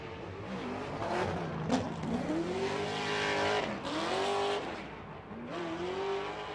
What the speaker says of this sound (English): Dai Yoshihara, Discount Tire, Falcon Tire, V8 S13.